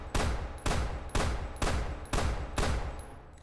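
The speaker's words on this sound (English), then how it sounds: "Also, Deagle still fires stupid slow" Desert Eagle pistol firing in the video game BRM5: six loud, evenly spaced heavy shots about half a second apart, each with a booming tail, no talking.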